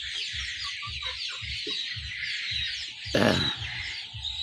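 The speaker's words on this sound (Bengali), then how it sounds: "এই যে দেশি মুরগি সব," Native Bengali deshi chickens cluck in a steady, rhythmic series close by, with a brief flutter or scuffle partway through over a constant high-pitched background whine.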